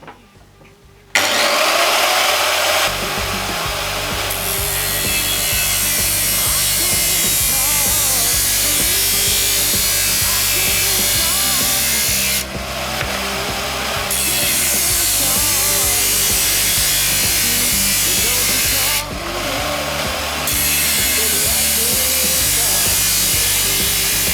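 A loud, continuous GRAND circular saw grinding through metal on a stationary setup, a steady harsh whine with brief dips in pitch, running almost without pause throughout.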